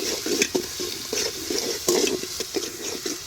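Ginger-garlic paste frying in a pan while a spoon stirs it, giving a steady sizzle broken by repeated scraping strokes, close and moderately loud with no talking.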